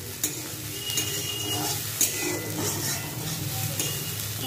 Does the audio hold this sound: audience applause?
no